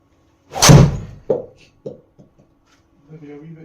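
A TaylorMade Qi10 Max driver strikes a golf ball once with a sharp, close impact crack that tails off, followed by a few soft thuds and a brief murmur of voices.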